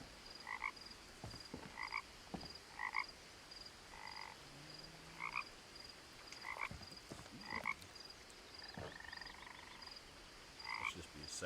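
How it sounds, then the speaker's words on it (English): In What Remains of Edith Finch, a frog croaks about ten times in a regular rhythm of double-pulsed calls, close and distinct, with faint clicks and soft background noise between them. "You see the frog?"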